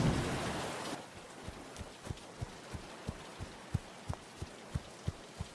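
Cartoon rain falls in a broad hiss that drops away after the first second, leaving soft patter and a steady series of sharp, evenly spaced drips or thuds.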